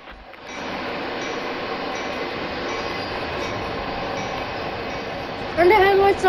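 Locomotives run in Train Sim World 2 with a steady rail rumble and wheel noise, followed near the end by a sharp rising squeal or horn-like tone; speech is present in the background.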